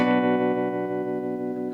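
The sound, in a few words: guitar tremolo effect on Fender Tone Master Deluxe Reverb amp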